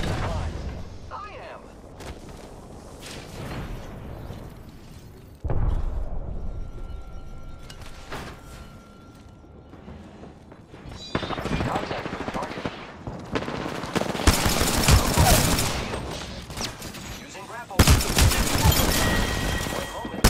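Video game gunfire arrives in bursts of automatic shots, sparse at first and then dense, loud rattling volleys in the later stretch with brief lulls between.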